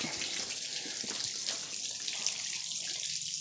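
Water pumped through the cooling system of a HydroSports bass boat's outboard motor gives a steady, fairly quiet hiss and splash that runs continuously without a break.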